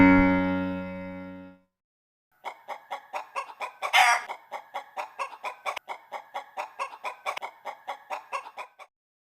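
A chicken clucks in a long run of short, rhythmic bursts at close range, preceded by a sustained tonal sound that ends abruptly before a brief silence.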